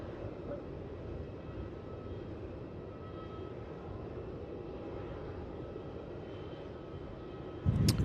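A Jetstar jet airliner rolls for takeoff on runway 16 at Melbourne Airport, a faint, distant, steady engine roar that holds evenly throughout, with a brief louder bump right at the end.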